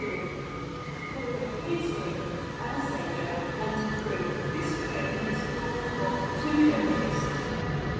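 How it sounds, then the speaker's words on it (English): A train rumbles and clatters as it pulls away from Stoke-on-Trent station, with steady mechanical drone, faint squeals and a brief higher screech near the end. "as the train heads out"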